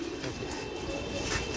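Domestic pigeons cooing at a home loft, a low, steady murmur of several birds close by with no talk over it.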